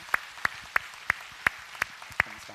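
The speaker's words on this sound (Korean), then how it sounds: "우리 하나님과 영광의 박수 올리겠습니다" A church congregation claps in unison during a Sunday morning service, about seven sharp, evenly spaced claps in a steady rhythm, moderately loud against a quiet room.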